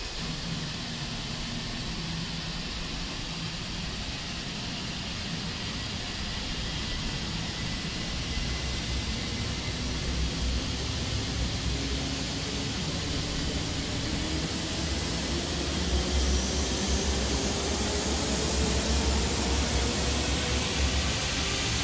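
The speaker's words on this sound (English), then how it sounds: "Yeah, the engine sounds are pretty nice." Jet engines of a Toliss A330-900 airliner in X-Plane 12 produce a steady, broad roar with a faint rising whine, a continuous wash of turbine noise that swells slightly toward the end, with no talking.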